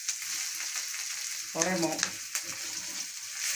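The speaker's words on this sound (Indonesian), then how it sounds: "Kita tumis bumbunya. Masukkan bumbunya yang tadi dicincang. Bawang putih sama daun jeruk." Chopped garlic and lime leaves sizzle in hot oil in a pan, a steady close frying hiss throughout, with a brief spoken word partway through.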